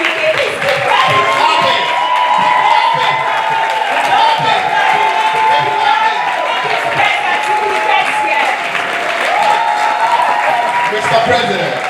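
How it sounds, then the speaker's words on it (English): A large audience at a university challenge finale in Lagos applauds and cheers, giving a loud, sustained wall of clapping with crowd noise and whoops, while a voice speaks over it through a PA. "Please keep clapping."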